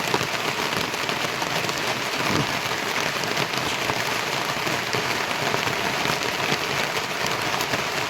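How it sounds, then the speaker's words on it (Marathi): Heavy rain pours steadily over a farm field in Jalna district with crops of sorghum, wheat and cotton, a dense, loud, unbroken hiss of drops, with no voices. "बघा आता पाऊस चालू आहे"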